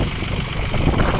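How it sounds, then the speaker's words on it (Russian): Four-wheel-drive CB227 Japanese mini tractor, fitted with a front loader and rotary tiller, idles with a loud, close, steady rough engine rumble and no voices. "Такой вот полноприводный тракторок с куном и фрезой поступил у нас на продажу"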